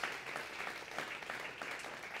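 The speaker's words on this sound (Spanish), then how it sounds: "Demos un aplauso a los que hoy día han dado este paso" Soft, distant applause from a church congregation at the close of a Spanish-language sermon, a steady patter of many hands lasting a couple of seconds.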